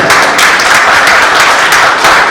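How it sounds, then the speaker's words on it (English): Steady applause from an audience at a jewellery-industry master class in Jaipur fills the whole stretch, dense clapping holding at a consistent loud level without pause. "can I give a huge round of applause"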